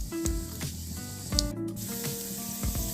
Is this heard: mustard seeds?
yes